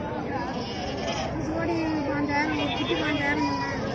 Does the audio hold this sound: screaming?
no